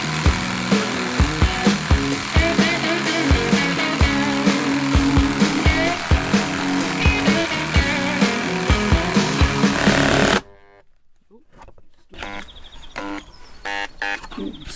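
A jigsaw cuts through wood during a camper van build, a loud, close, rattling buzz with rapid rhythmic chatter that cuts off abruptly about two-thirds through, followed by quieter handling clunks.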